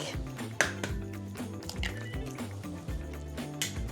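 One egg goes into chocolate cake batter in a bowl, giving a soft wet plop followed by faint squishy liquid sounds and light clinks, close and quiet, without speech.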